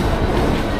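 A Mumbai local train rumbles loud and close in a brief, steady burst of rolling wheel and carriage noise with no speech.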